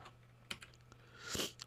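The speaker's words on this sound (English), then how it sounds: "as I'm typing Control C or copying text" A Control C shortcut typed on a computer keyboard: a few sharp, close key clicks spaced irregularly over a faint hum, with a slightly louder clatter near the end.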